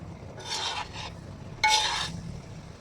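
Anchovy peera (netholi) is stirred and turned in a pan, producing two close scraping rasps of a spoon over a soft sizzle.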